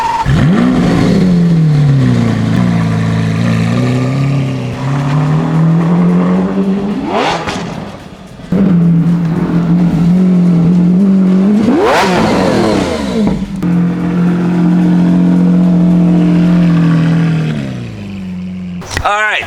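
A Lamborghini Aventador's V12-style engine drones loudly while driving, with repeated sharp revs climbing and falling through gear changes, close and dominant, and a brief dip in sound midway.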